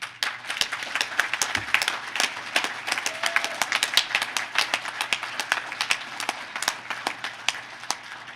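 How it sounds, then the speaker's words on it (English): A conference audience at a security event gives a steady round of applause, many claps blending into a continuous, fairly close patter that lasts the full eight seconds with little talk. "Please, first of all, give them a round of applause here."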